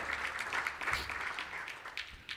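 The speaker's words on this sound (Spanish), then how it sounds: "Denle un aplauso al Señor." A church congregation applauds during a Spanish-language sermon, giving a short burst of dense, fairly close clapping that carries on steadily for a couple of seconds without a break.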